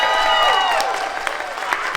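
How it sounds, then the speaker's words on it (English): Audience applause with some crowd noise under a speaking voice, brief and moderately loud, fading somewhat toward the end. "Do I hear applause?"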